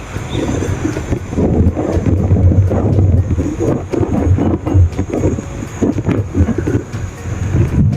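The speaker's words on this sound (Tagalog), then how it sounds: "Grabe lakas ng hangin oh" Strong wind roars steadily across the microphone on a mountain river trail in Zambales, a loud low rumble with gusty buffeting throughout and no talking.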